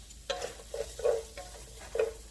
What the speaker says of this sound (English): I'm going to let the onions caramelize